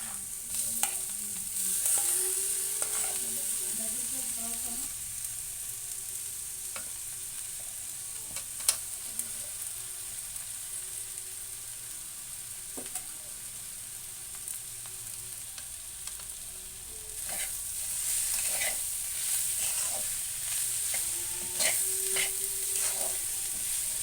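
Boiled, mashed potato pieces fry in a pan, a continuous loud sizzle with occasional stirring scrapes, growing brighter and more intense toward the end.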